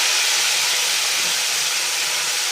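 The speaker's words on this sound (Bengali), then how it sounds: "মশলাটা আমি কড়াইয়ে ছেড়ে দেব।" Spice paste of ground ginger, tomato and dried red chilli hitting hot oil in a kadai after panch phoron, giving a loud, steady broadband sizzle and hiss that holds without a break and with no talk.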